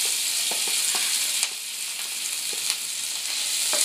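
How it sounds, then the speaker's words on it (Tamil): Ginger and green chillies sauté in sesame oil with a bright, continuous sizzle and occasional soft stirring taps, close by and with no talking. "இதுக்கு மேலே இஞ்சியும் பச்சை மிளகாயும் போட்டு வதக்கணும்"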